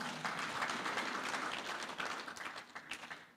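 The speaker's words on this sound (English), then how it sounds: "Let's clap for her." A crowd applauding steadily, dense clapping filling the whole stretch without a break, moderately loud.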